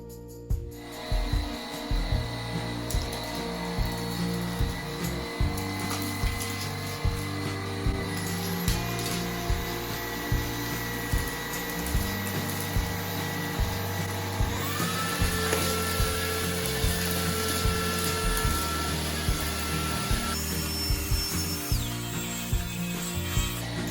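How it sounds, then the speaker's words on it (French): A Cecotec Rockstar 300 X-Treme Ergoflex cordless stick vacuum runs continuously with a whining motor tone that steps up in pitch as the power level is raised, over steady faint clicking and rattling. "l'aspirateur est visiblement plus fort vers le milieu et vers la fin de la démonstration"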